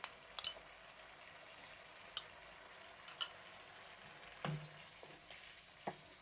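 Ginger and garlic dropped into frying chicken malai boti, a faint low sizzle with a few sparse clicks and spoon taps against the pan, quiet and intermittent, with no talking.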